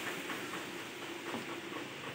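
Palm fruit fritters (taler bora) frying in hot oil give off a steady, close sizzling hiss that holds even throughout, with no voices.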